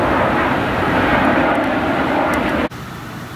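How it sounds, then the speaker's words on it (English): A fixed-wing plane flies overhead with a loud, continuous engine roar that cuts off abruptly near the end. "We got planes flying overhead there."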